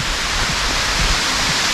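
A waterfall on the Fiery Gizzard trail roars as a steady, close wash of broadband water noise, continuous and unbroken with no voices over it.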